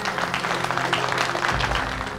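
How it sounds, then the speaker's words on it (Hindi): A studio audience on a TV talent show stage claps loudly and steadily for the whole short stretch, a dense wash of applause with no voices over it. "एक बार जोरदार तालियां।"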